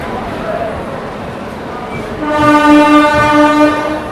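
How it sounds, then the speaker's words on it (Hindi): The Odisha Sampark Kranti Express, hauled by a WAP7 electric locomotive from Ghaziabad, arrives at a station platform amid loud rumbling, with a sustained tonal horn rising partway through. "तो ये गाजियाबाद का WAP7 लोकोमोटिव के साथ पहुंच चुकी है अपनी उड़ीसा संपर्क क्रांति एक्सप्रेस ट्रेन"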